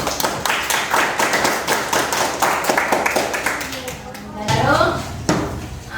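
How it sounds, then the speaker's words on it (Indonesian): A class of students at a school lesson claps in unison, brisk rhythmic hand claps filling the room for several seconds before they trail off, followed by a speaking voice and a loud thump. "Sekali lagi tepuk tangan untuk kita semua"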